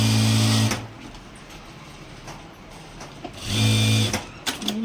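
A sewing machine in a boutique stitches piping onto a blouse, running in two loud bursts near the start and end with a quieter pause between them.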